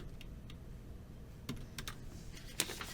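Keys tapping on a computer keyboard as a folder name is typed, a loose run of soft clicks with a few sharper strokes near the end, close and fairly quiet, with no talking.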